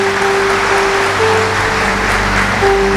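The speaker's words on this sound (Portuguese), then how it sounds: "Dá uma salva de palmas pro senhor." A church congregation at a Pentecostal service claps together in sustained, dense applause, loud and close, with a steady tone humming underneath.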